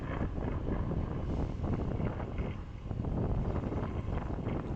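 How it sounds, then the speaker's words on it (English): Steady gusty wind buffeting the microphone outdoors beside a large church, a continuous broadband roar with rustling surges and no voices. "It was a little windy that day."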